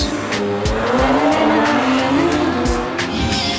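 A motorbike is ridden fast, its engine giving a loud, continuous roar with whooshing rises and a few sharp transients, alone without voices.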